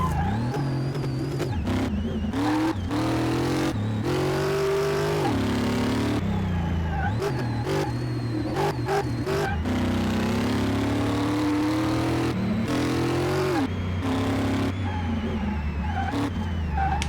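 A car engine revs and surges continuously while driving in Car Mechanic Simulator 2018, a loud, steady droning tone whose pitch rises and falls repeatedly across the whole stretch.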